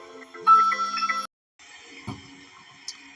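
A phone rings with a bright electronic ringtone, a sustained tonal burst followed by a brief pause and a second quieter stretch of ringing, with a small clink near the end.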